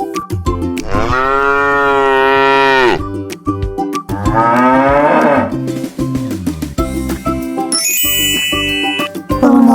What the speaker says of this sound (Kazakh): Бұл сиыр, ол му дейді.